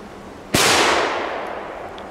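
A single sharp, loud bang from a Belgian firecracker up close, followed by a long hissing, crackling decay that fades over a second or so.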